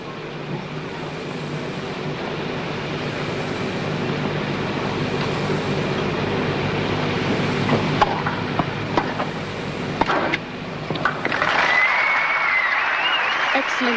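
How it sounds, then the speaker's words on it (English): Applause from a tennis crowd at a 1987 Brisbane women's semifinal, a steady wash of clapping that swells near the end, with commentary running over it. "Crowd applauding every point now."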